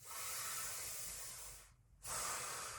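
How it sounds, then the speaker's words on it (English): Air hissing in and out through clenched teeth during a qigong breathing exercise: one long steady breathy hiss, a brief quiet pause, then a second hiss resuming, close and fairly loud with no talking. "breathe in and out through your teeth like this"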